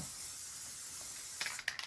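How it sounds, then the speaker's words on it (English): A spray can sprays onto vinyl for a bag. A steady faint high hiss runs throughout, then a few short louder bursts and clicks come near the end, with no talking. "Zhuzh it with a little spray."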